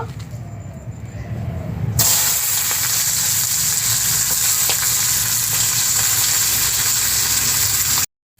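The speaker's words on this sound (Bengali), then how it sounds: "এবারে আমি পেঁয়াজ ভেজে নেব।" Onions for biryani dropped into hot oil burst into a loud, dense sizzle that holds steady for several seconds before cutting off abruptly, after a quieter stretch of kitchen noise.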